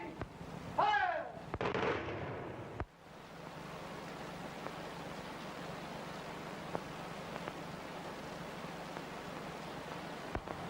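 A firing squad volley cracks out at the start, a burst of loud shots over shouted voices, then fades into a steady low hum with a few faint distant pops.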